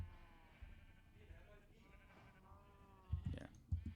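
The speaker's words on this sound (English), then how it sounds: "Over here, got some sheep and cows," Minecraft sheep bleat in a wavering, quavering call that drifts along at low volume, with a few soft thumps toward the end.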